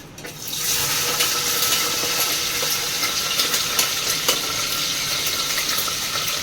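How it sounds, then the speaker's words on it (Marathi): Green chillies hit hot oil for a tempering while cooking khichdi, starting with a sudden sizzle that settles into a loud, steady, close frying hiss with small crackles, heard alone. "आता आपल्याला टाकायचं मिरच्या. लसण नाही टाकायचं, मिरच्या टाकायच्या आहेत आपल्याला."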